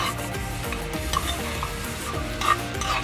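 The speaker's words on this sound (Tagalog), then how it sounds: "Piniritong tokwa." Tokwa (tofu) frying in a small pan, a dense continuous sizzle with rubbing and scraping from a utensil and a couple of light clinks, close and without talk.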